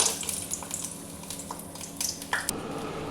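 Lentil dumplings (bori) dropped into hot oil in a wok: a steady, moderately close crackling sizzle with soft spattering pops and a faint clink of utensils.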